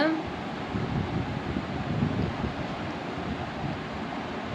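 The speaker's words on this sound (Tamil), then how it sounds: "கோல்டன் ப்ரௌன் கலர் வர அளவுக்கு நல்லா பொரித்து எடுத்துக்கலாங்க" Milk dough balls for gulab jamun deep-fry in hot oil, giving a steady, dense sizzle and crackle that stays close and fairly loud without a break.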